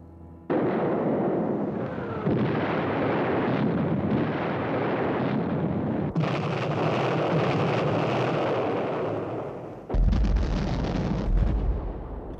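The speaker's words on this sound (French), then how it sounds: "un coup de canon, puis 2, puis 1000." Heavy, continuous booming of distant artillery at the 1916 Battle of Verdun, a dense rumbling barrage with sudden loud surges and no voices.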